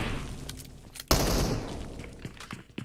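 Gunfire from a PUBG Mobile esports match: a sharp loud burst of shots followed by a dense rumbling volley that fades into scattered, fainter reports.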